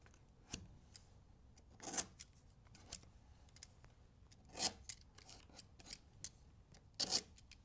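Scissors cutting tape or paper for CNC tiling, a few short separate snips spaced a few seconds apart, close and fairly quiet against a faint background.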